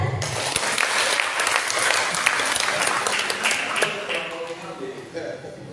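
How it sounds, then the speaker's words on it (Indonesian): Audience applause at a national seminar welcoming the first speaker, a dense burst of many hands clapping that stays strong and then gradually thins and fades toward the end. "Kita sambut dulu tepuk tangan."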